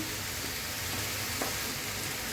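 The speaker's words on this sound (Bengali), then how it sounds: "হলুদ দিয়ে দিব সামান্য একটু ভেজে নিব হালকা করে" Spring onion stalks frying in a pan, a brief, even, continuous sizzle with no pauses and no talk.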